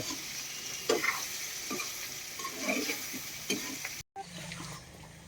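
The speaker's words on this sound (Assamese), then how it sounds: "মাংসটো পূৰা ফ্ৰাই কৰি আছোঁ। মাংস ফ্ৰাই হৈ আছে।" Pork meat sizzles in a hot pan while being stirred, a steady close frying hiss broken by scraping spatula strokes and brief clatters, with a short drop to near silence near the end.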